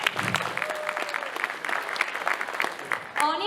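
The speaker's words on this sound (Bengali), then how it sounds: "জোরে হাততালি হয়ে যায়।" Loud applause from an audience at a 2015 Bangladesh Victory Day celebration, a dense, steady patter of clapping that runs the whole time and swells near the end.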